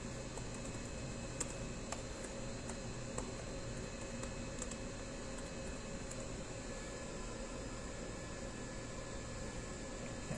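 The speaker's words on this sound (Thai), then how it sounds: "เดี๋ยวเราไปเทสในเรื่องของตัวคีย์บอร์ดกันนะครับ" Keys on a 2016 MacBook Pro 15-inch (A1707) keyboard are pressed one at a time during a repair-shop test, giving sparse, faint clicks over a steady background hum.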